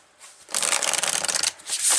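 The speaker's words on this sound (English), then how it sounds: "I'm going to pull the cards for the week." Oracle cards being shuffled by hand, a close, crisp papery riffling burst lasting about a second, followed by a brief softer rustle, with no voices.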